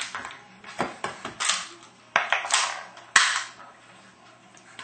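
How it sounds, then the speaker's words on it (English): A Tokyo Marui SIG P226 airsoft pistol handled up close, a series of sharp plastic clicks and snaps from cocking and working the slide, irregularly spaced, some louder than others, with no talk. "you can cock the gun"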